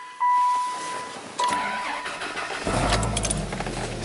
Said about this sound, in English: Starts up.